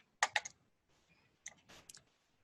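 A computer mouse gives a few quiet, close clicks in two small bursts separated by near silence.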